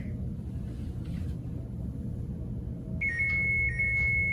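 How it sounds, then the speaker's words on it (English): A kitchen timer goes off while a cake bakes, a steady high-pitched electronic beeping that starts partway through and repeats in short bursts over a low background rumble. "Timer's going off."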